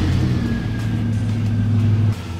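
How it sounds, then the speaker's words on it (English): A car engine runs at a steady idle during a fuel pressure test, making a loud, close, even rumble with a faint whine above it, before the sound drops off sharply near the end. "Now we'll start the vehicle and see our running pressure."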